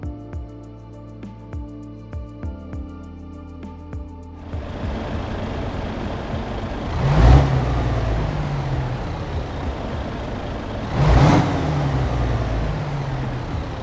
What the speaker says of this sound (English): The sound of the truck is also important.